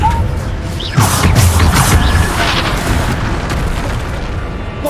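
Bombarda blasting-spell explosions from Hogwarts Legacy, a heavy boom landing and then a loud, sustained crashing rumble with debris, loud and close throughout.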